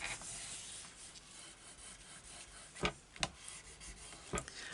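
Paper overhang on an 8x8 gatefold trifold mini album is rubbed down by hand, giving a soft, close, continuous scraping with a few sharper scuffs near the end, quiet and without speech.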